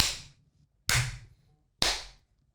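Three sharp, close hand claps spaced roughly a second apart, each ringing briefly into silence.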